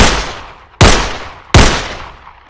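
Three loud, sharp gunshots from a cartoon gun aimed at a hedgehog, spaced under a second apart, each cracking suddenly and then trailing off in a long decaying echo.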